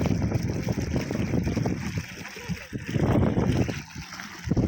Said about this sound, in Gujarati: અહીં હાલે છે પાણી ઘઉંમાં